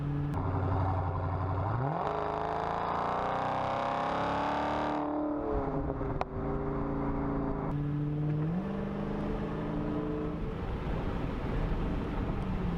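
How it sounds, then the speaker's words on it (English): A Dodge Charger Hellcat's V8 revs up and down in loud, close surges, the engine note climbing, dropping and climbing again over the whole stretch. "This is exactly what you want an American V8 to sound like."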